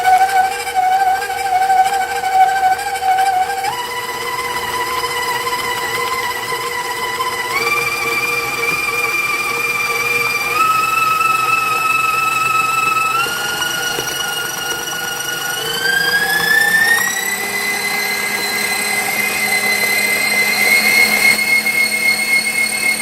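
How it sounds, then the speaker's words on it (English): An electric mixer beats buttercream with a steady motor whine that steps up in pitch several times as the speed is raised, then glides higher near the end. It is loud and close, with no talk. "So I mixed that for about 2 minutes"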